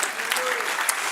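A church congregation applauds during a sermon by a pastor, with dense, loud clapping from many hands sustained through the short moment and voices mixed in beneath it.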